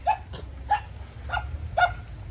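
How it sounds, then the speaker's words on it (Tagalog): A dog barks four times at a steady pace, sharp and fairly close, over a low background rumble. "May aso."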